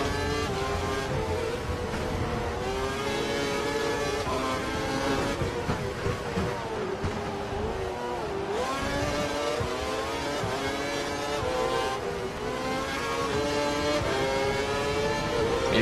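Racing game F1 car engine from F1 2012 screaming at high revs on a straight, a steady loud drone with shifting harmonics that dip briefly and climb again, continuous throughout with no talk.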